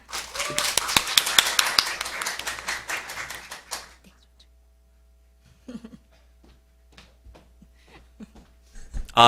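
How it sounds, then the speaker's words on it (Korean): Audience clapping welcomes a youth vice-president of a Korean political party at the opening ceremony of a youth forum, with dense applause for about four seconds. It then fades into scattered murmuring and a few isolated claps. "패기 있는 청년 정의당 배준호 부대표님을 뜨거운 박수로 맞이해 주시기 바랍니다."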